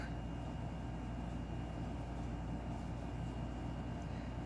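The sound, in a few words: air conditioner running in room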